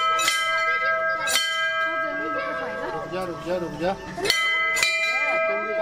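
Children strike a school bell on a school picnic in Bhaderwah. Several bright, clanging hits ring out with long, humming sustain, two near the start and two later, over nearby chatter and talking.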